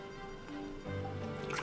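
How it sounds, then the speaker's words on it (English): Water pours into a glass packed with ice cubes, played as a Nintendo Switch HD Rumble demo: soft dripping and liquid trickling, fairly quiet and brief, swelling a little fuller toward the end. "you can feel water filling the glass"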